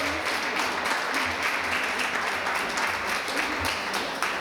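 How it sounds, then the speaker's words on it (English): Dense, sustained applause from an awards-ceremony audience honoring the evening's women of distinction, a steady wash of many hands clapping with no talk over it. "Nice round of applause for our honorees and our mistress of ceremonies"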